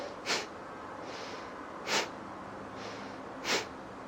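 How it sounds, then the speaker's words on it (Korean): Three sharp, forceful nasal exhales of Kapalabhati yoga breathing, evenly spaced about a second and a half apart, close and distinct against a quiet background. "내쉴 때 코에서는 바람이 나가게 코를 풀듯이 동시 동작입니다"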